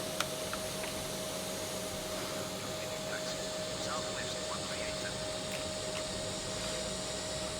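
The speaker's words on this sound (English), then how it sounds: "the sort of aeroplane sound" A steady, loud airplane engine roar from an air traffic control tower simulator game at Tucson International Airport, a constant whooshing drone that holds evenly throughout with no talk over it.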